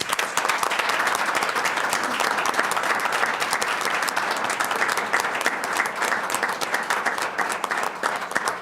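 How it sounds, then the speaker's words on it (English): Audience at a county crisis intervention team meeting gives first aid instructors a big round of applause, a steady, fairly close patter of many hands clapping continuously for over eight seconds without speech. "I would like to give these guys a very big round of applause."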